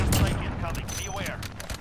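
Gunfire in the Call of Duty Modern Warfare shooter game, a rapid, loud stream of shots throughout, with a voice talking over the firing.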